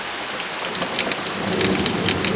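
A low thunder rumble rolls in beneath steady, heavy rain during a sudden downpour in southwest Michigan, the rumble building slightly toward the end while the rain hisses continuously throughout.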